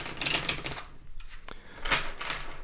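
Tarot cards are shuffled in two bursts of crisp riffling and sliding, close and moderately loud, with a quiet pause between them and no talking.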